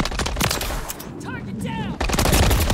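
Gunfire in Call of Duty Modern Warfare 3 multiplayer, loud rapid automatic bursts that drop out briefly for a radio voice and then resume.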